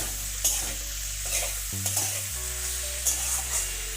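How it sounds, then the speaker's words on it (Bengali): Okra is stirred and fried with spice masala in a pan, giving a constant close sizzle with occasional scraping stir sounds over a background music bed. "এবারে আমি ঢেঁড়সটা অ্যাড করে দিলাম এবং ভালোভাবে কষিয়ে নিচ্ছি মশলার সাথে"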